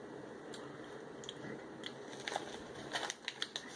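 Crunchy Meiji Hello Panda cocoa biscuits are chewed close up, a series of quiet, irregular crisp bites and crunches that grow louder toward the end, with no talking.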